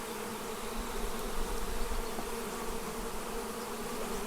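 Honeybees buzz around a hive during a nuc inspection in the Ozarks, a dense, steady drone of many insects close by, unbroken and without speech.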